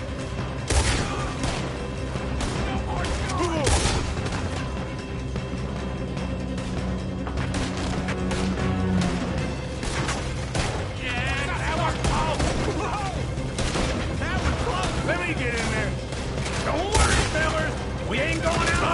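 Gunfire in the video game Red Dead Redemption 2, scattered sharp shots in a chaotic shootout over a constant bed of noise, with voices shouting and talking throughout.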